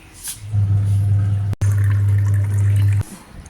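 Water pours from a water camper into a container holding ice, a loud steady gush in two bursts split by a brief cutoff, with no talk.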